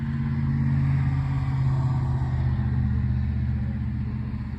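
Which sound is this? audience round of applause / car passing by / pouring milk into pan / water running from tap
car passing by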